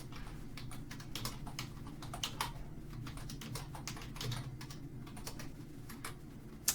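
A computer keyboard clatters with quick, irregular keystrokes as a username is typed, close and clear over a low steady hum.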